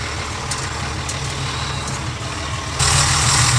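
Steady engine drone of a David Brown tractor running, a continuous rumble that steps up louder near the end, with no talk.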